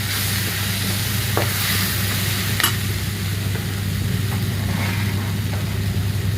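Soya chunks curry stirred in a pan, a steady broadband sizzle with a few soft spoon scrapes and clicks, over a constant low hum throughout.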